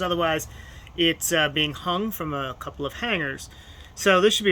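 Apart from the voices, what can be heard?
None of the usual background noises is heard.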